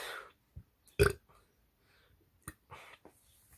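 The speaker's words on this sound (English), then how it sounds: "As soon as I stop burping, for the billionth time" A single loud, close belch from a man bursts out alone, followed by a few softer throaty sounds and short pauses in an otherwise quiet room.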